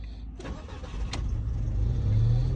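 A Volkswagen Golf 4 with a battery that will not charge and no battery warning lamp is started: a short cranking burst, then the engine catches and settles into a steady, close, rising idle hum.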